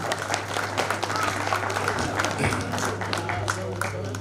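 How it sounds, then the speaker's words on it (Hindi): Audience applause at a Hindi kavi sammelan poetry event as a poet is honoured on stage, dense steady clapping throughout with crowd noise and a low hum underneath. "जोरदार तालियां बजनी चाहिए।"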